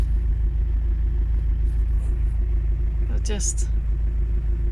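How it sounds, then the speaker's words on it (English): Steady low engine rumble heard from inside a moving car, continuous throughout, with a voice speaking briefly over it. "listening to the car, being in the car"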